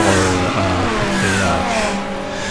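A GT3 race car in a racing video game pulls out of the pit stop with a loud engine note that rises and falls through gear changes, with a faint tire squeal.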